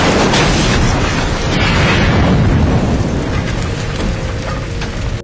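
Car petrol tank blowing up after a gunshot in a horror film scene, a dense, roaring blast that rumbles and crackles loudly throughout with debris-like noise and no talk.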